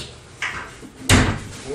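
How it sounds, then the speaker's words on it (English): Cabinet drawers with soft self-closing mechanisms shut in a mobile clothing retail store trailer fitted with IKEA furniture, two quick soft thumps close by, the second louder. "You got the drawers with the nice self-closers."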